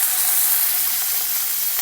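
Chicken legs searing in a hot frying pan, a loud continuous bright sizzle and crackle close by, with no voices over it.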